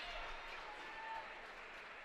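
A crowd at a girls high school basketball game between McFarland and Brodhead applauds a made free throw, a steady, distant wash of clapping heard faintly and continuously.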